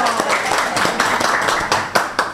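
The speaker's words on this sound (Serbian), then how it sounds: "Molim vas aplauz za nju." An audience applauds for a woman guest at a Bosnian talk event, a brisk burst of scattered claps with a few sharper slaps, loud and continuous with faint voices mixed in.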